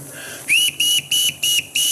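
A captain's whistle sounds in a household scene from The Sound of Music, five sharp, loud, shrill blasts in quick succession, each rising briefly at its start.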